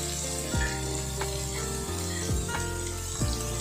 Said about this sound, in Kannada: ಈರುಳ್ಳಿ ಸೇರಿಸ್ಕೋತಾ ಇದ್ದೀನಿ ಉಪ್ಪನ್ನು ಹಾಕೋತಾ ಇದ್ದೀನಿ